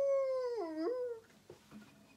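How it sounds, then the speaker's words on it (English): A dog gives a close, clear howl lasting about a second, its pitch swooping down and back up, followed by a few short, soft whimpering yips. "it is about howling like a wolf or barking like a dog"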